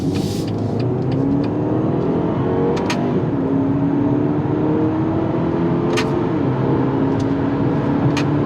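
A turbocharged four-cylinder BMW X2 accelerates onto a highway, its engine note climbing steadily through the gears under a constant roar of road and wind noise heard from inside the cabin.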